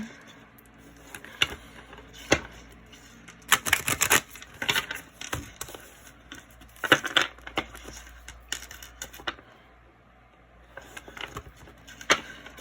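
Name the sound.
shuffling cards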